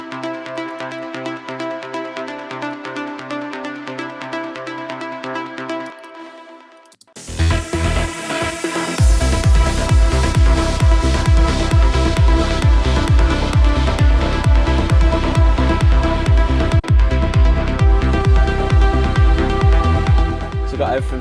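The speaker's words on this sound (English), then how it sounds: "there's this pluck that comes in from the virus, which sounds like this" Plucked notes from a Virus synthesizer play in a trance remix. A sustained harmonic passage cuts off at about seven seconds, then a loud, rhythmic run of plucks follows over a pulsing low end.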